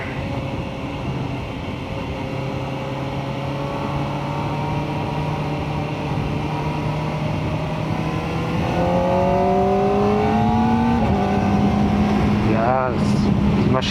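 A Kawasaki ZX-4RR motorcycle engine drones steadily while riding, its pitch climbing gradually and then stepping as the gears change, with a loud close-up tone and wind noise.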